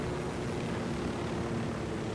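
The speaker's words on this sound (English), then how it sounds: "we got a little bit better control of the helicopter now" Steady, unbroken helicopter rotor and engine drone from Ghost Recon Wildlands, heard alone at a constant level without talk.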